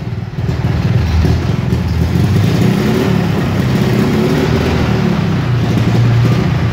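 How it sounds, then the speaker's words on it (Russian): A ZAZ-965 Zaporozhets car engine revving hard, loud and close, holding a steady rough drone with slight rises in pitch across the whole stretch. "не газуй так сильно"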